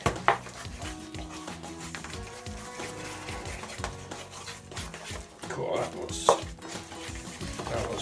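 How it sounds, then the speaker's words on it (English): A tandoori lamb chop marinade being stirred in a bowl, with soft scraping and wet mixing sounds and occasional sharper clinks of utensil against the container, fairly close and steady throughout. "Okay, I've stirred all that through now."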